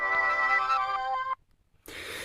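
A cheap LCD digital microscope plays a short electronic power-off jingle through its tiny built-in speaker: a bright tonal melody lasting about a second and a half, followed by a brief hiss, with no talking.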